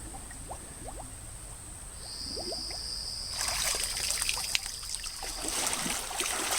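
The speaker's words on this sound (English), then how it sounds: "What we're going to do is drip it into the river here" Filtered water drips from a LifeStraw personal filter into a river outdoors, a soft trickle of scattered drops that swells into a denser, louder splashing stream about halfway through.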